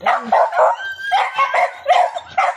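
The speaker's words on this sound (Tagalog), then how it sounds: "Mga gutom na ang aking mga pitbull." Hungry pitbulls barking loudly and close by in a quick series of repeated barks, with some yips between them, and no talking.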